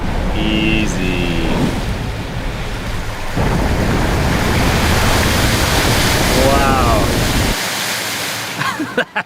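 A Hummer EV fords through deep water, making a loud continuous rushing, sloshing wash. Voices speak briefly over it near the start and middle, and the rush cuts off abruptly near the end.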